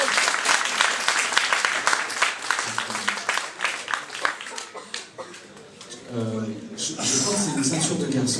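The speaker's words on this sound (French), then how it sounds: "On applaudit." Audience at a stage hypnosis show claps in a dense burst of applause that thins out, with people talking and laughing near the end.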